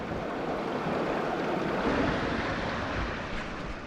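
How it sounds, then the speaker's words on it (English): Water rushes steadily over the top mat of a gold panning sluice set in a Scottish river at Glen Orchy. The broad, constant wash is close and fairly loud, with no voices. "Look at that top mat, it's got some lovely flowing water over it"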